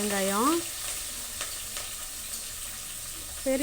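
Green chillies and onions sizzle and crackle steadily in hot oil in a pan, with a brief clatter as they are stirred; a short voice fragment briefly sounds at the start and end.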